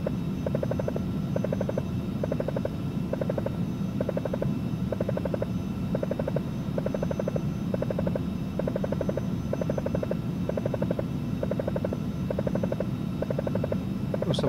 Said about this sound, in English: great looking plane, very loud though